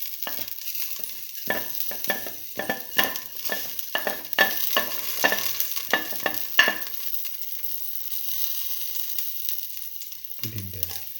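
Nigella and fennel seeds crackle in a hot pan, with irregular sharp pops and spits over a light sizzle that fades near the end, heard up close with no talking.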